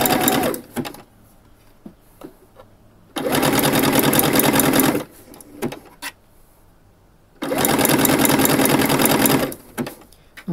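A sewing machine stitches a seam on a garment in two bursts of steady, rapid whirring lasting about two seconds each, separated by quiet pauses with small clicks and handling noises as the fabric is repositioned.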